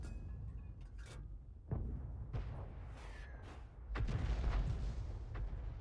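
A 105 leFH18B2 artillery gun in a tank video game fires a few distant, muffled booms spread across the stretch, with faint rumbling between the shots.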